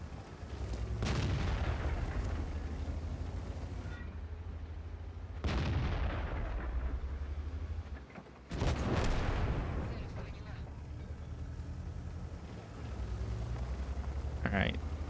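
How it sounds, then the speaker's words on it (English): Tank cannon fire in World of Tanks, loud booming shots near 1, 5.5 and 8.5 seconds over a constant low engine rumble, with softer distant firing between. "Something's shooting at me."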